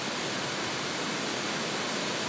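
Water rushes at a hydroelectric dam on the Snake River in Idaho Falls, Idaho. It gives a dense, unbroken roar of broadband noise, steady and fairly soft, with no voices.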